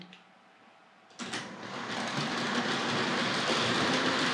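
An early-1970s Hornby R.258 Princess Elizabeth model locomotive pulling coaches around a track, starting after a quiet moment and building into a steady, close whirring rattle with rhythmic clicking from the rails.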